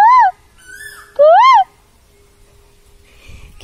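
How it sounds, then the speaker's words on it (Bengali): A bird calls in the morning with two clear, loud, rising-and-falling whistled notes separated by a pause, followed by faint quiet background. "কি দারুণ না, কোথায় যেন পাখিটা ডাকছে।"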